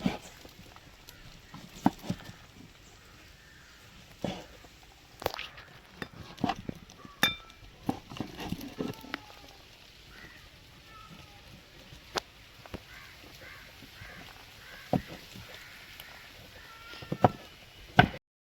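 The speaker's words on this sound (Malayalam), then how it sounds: "ഇനി നമുക്ക് കുറച്ച് പപ്പായ ഇവിടെ അരിയാം" A knife chopping papaya on a board, sparse irregular sharp chops and taps at close range over a quiet background, with occasional brief clusters of quicker cuts.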